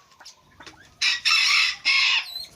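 A laying hen wandering around a garden clucks close by in three loud, harsh bursts in quick succession, with quieter farmyard sounds before and after.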